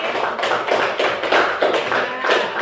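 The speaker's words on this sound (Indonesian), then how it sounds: "Tepuk tangan untuk adik Kansil." Students applaud in a classroom at the end of a lesson, praising a classmate's answer: a steady, dense patter of many hands clapping together for a couple of seconds.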